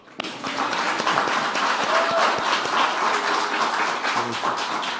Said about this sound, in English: Y'all could clap for her.